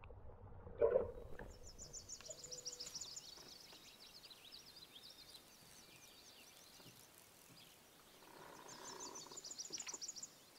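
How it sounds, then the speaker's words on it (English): A frog croaks a few times beside a creek with lily pads, set amid a steady outdoor background of insects and birds chirping; the croaks are faint and at middle distance. "Hear that frog?"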